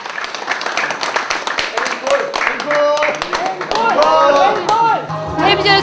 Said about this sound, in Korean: 박수를 치며 모두 하나가 되어갔다.